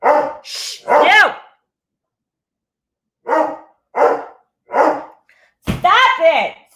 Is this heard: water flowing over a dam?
no